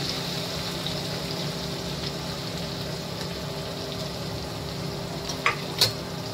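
Chopped onion frying in a pan with garlic for a Bhogi mixed vegetable dish, a steady, even sizzle throughout with a couple of brief clinks near the end, and no talking.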